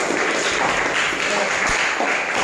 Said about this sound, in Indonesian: Kita kasih aplaus sekali lagi untuk Mas Dela